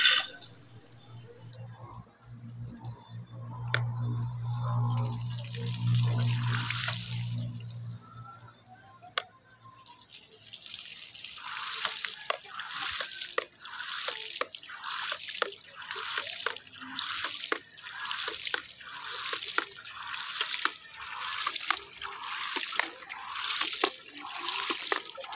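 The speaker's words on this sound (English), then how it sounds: "open the dry valve to start the ramp pump" A ram pump running in a river setting, with a steady rush of flowing water and a regular rhythmic pulse of clicks and surges as the pump cycles.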